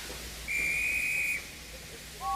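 Steam engine giving a loud, sustained high whistle-like hiss of steam lasting about a second, followed by a short second blast at the end over quiet background.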